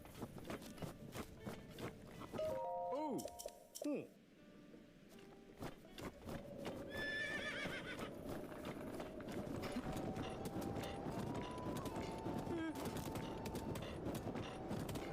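A horse in The Legend of Zelda: Breath of the Wild trots with rhythmic hoof clip-clops and gives a brief whinny early on, while ambient game sounds play quietly underneath.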